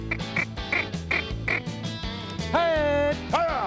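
Ducks call during a goldeneye hunt: five evenly spaced, loud, nasal quacks close by, then two longer drawn-out calls that sweep downward in pitch.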